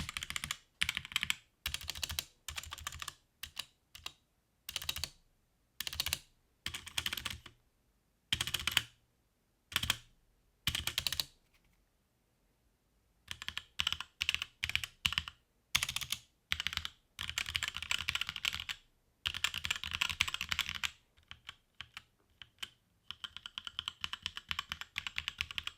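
Fast typing on a HyperX Alloy Origins Core keyboard with HyperX Red linear switches comes in dense bursts of clicky keystrokes, broken by short pauses and one longer gap. It is fairly quiet and close, with no voices.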